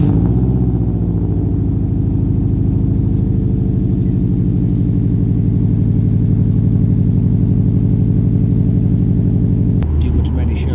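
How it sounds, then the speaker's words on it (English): A modified 340 bhp Subaru Impreza WRX idles through its exhaust, a loud, steady, burbling low rumble that holds evenly for about ten seconds before cutting off abruptly near the end. "I'll actually add a clip of the exhaust just idling"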